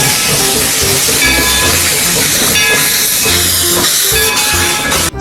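Loud, steady hiss of a classic steam locomotive venting steam, a continuous broad roar with faint tonal whistle-like lines running throughout, no talk.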